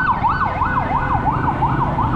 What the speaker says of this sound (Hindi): और ये सामने एम्बुलेंस आ रही है SIUT की।